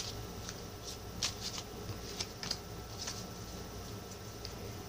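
Tarot cards being shuffled by hand, a quiet run of soft riffling bursts and light taps at irregular intervals, close and faint with no talking.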